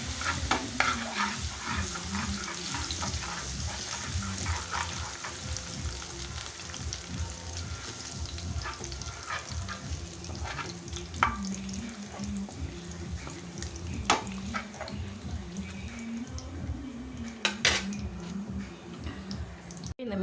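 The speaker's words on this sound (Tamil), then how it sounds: "இதை நல்லா வதக்கி விட்டுருங்க இந்த இஞ்சி பூண்டை" Ginger, garlic and curry leaves sautéing in a pan in a Kerala home kitchen: a continuous soft sizzle with the scraping and tapping of a spoon stirring, fairly quiet and close throughout.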